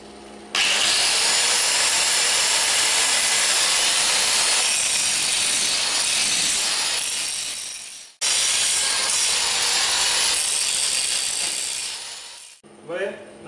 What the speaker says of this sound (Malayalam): ഇനി ഇത് നമുക്കൊന്ന് ഗ്രൈൻഡ് ചെയ്ത് നല്ല അടിപൊളിയാക്കി എടുക്കണം